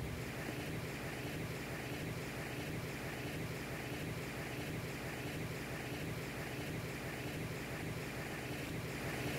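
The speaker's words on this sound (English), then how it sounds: "Amazing beach and surf." Steady ocean surf washes onto a beach in St. Maarten, a continuous broad roar of breaking waves with no voices and no pauses.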